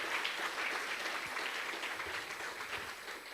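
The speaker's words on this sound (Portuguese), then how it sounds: "Dê um aplauso a Ele, meu irmão." A congregation claps steadily throughout, a dense, even wash of applause at moderate distance with no talking over it.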